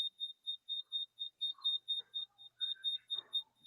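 A phone line carries a steady series of short, high electronic beeps repeating at a regular quick pulse, with faint scattered noises in between and no clear speech.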